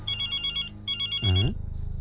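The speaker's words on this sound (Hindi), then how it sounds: "अरे भाभी, राम का फोन, लीजिए बात करिए" Mobile phone ringtone playing loudly and close, a bright repeating electronic melody with a brief lower buzzing tone in the middle before the tune resumes, with no voices over it.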